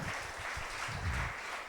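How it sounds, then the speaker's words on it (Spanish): A congregation applauding to the Lord during a Sunday Spanish-language church service, a soft, continuous spread of clapping from many people at moderate distance, steady and without speech. "Le damos ese aplauso al Señor."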